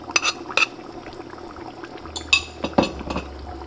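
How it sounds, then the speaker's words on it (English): Spoon stirring jollof rice paste in a cooking pot, with scattered scraping and clinking knocks against the pot in short irregular bursts, fairly close, with no talking. "And I'm just gonna keep like stirring."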